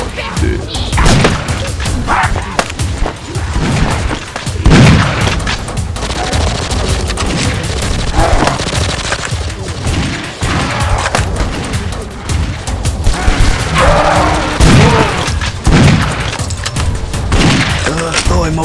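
Gunfire in the video game Lego Zombie: The Outbreak comes as loud, rapid bursts and volleys, joined by heavy thumps and crashes, almost unbroken for the whole stretch.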